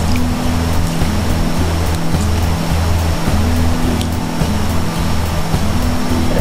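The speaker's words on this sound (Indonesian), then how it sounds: "Pertamanya kita akan rebus dulu sosis." Sausages boil in a pot of water with a little oil: a steady, rushing bubbling that fills the whole clip, with a constant low hum beneath it and no talking.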